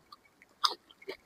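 Raw onion chewed during a home food challenge, with a few soft, separate crunchy bites and mouth sounds spaced over a quiet moment.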